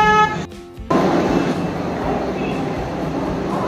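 The Howrah to Ranchi Vande Bharat Express gives a loud, steady rail rumble, with a brief tonal horn-like sound at the start before a short dip, then a continuous roar. Faint voices sit underneath.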